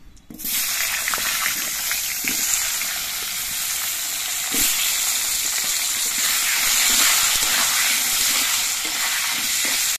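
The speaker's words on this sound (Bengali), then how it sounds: "এবার মাছ ভাজার তেলের মধ্যে আমি আলুগুলো ভেজে নিচ্ছি।" Potatoes frying in hot oil left over from frying pangas fish, giving a steady, loud sizzle and hiss with occasional stirring clinks throughout, no voices.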